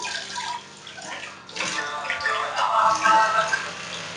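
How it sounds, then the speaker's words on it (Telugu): Water poured into a bowl of moong dal, splashing and burbling in uneven bursts that swell louder toward the end. "పెసరపప్పులో వాటర్ వేసుకోవాలి"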